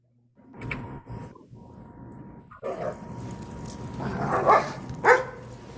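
Several dogs bark in short bursts, with yips and whimpers mixed in, starting near and fairly loud and growing busier toward the end, with a couple of sharper barks standing out.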